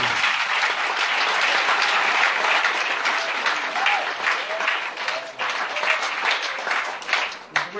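A church congregation at a deliverance service claps and cheers loudly for Jesus, sustained dense applause close up with some voices in the crowd.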